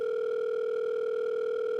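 A telephone dial tone hums steadily and loudly for about two seconds as a call to a helpline goes through, a continuous unbroken tone with no voices.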